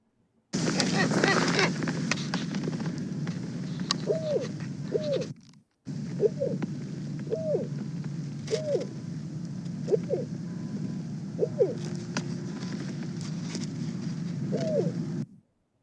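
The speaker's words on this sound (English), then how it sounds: "owls make a lot of different calls, but that one I always kind of think sounds like your typical owl" A wintering owl near Winnipeg gives a series of short hooting calls at a steady pace, each one clear above a constant low rumble of background noise, with a brief gap partway through.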